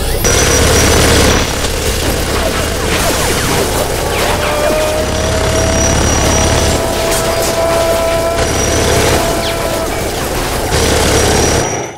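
A Gatling gun loaded with 5,000 rounds fires in a loud, sustained fusillade of rapid shots, with heavy booms and crashing impacts layered throughout.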